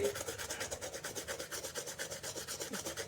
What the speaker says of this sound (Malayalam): ബ്രഷ് എടുത്തിട്ടുണ്ട് കുറച്ച് കോൾഗേറ്റ് ഇതിലാക്കിയിട്ട് ഷൂവിൽ നല്ല രീതിയിൽ